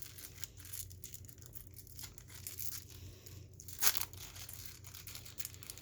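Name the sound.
tearing open a foil pack of baseball cards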